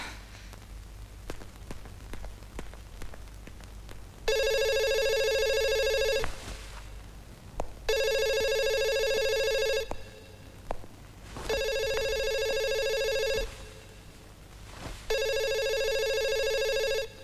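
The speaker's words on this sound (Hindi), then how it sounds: "ईशा, फोन उठाओ और सच्चाई का सामना करो।" A telephone bell rings in four long bursts with short gaps between, loud and close, over a faint patter in the background.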